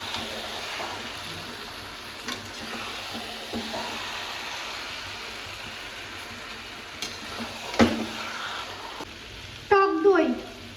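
Meat goes into a fried spice paste for jackfruit biryani and sizzles steadily in the pot, a continuous close hiss with scattered clinks and a louder burst of spattering near the end.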